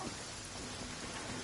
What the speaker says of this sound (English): it's already raining. With thunder, I might add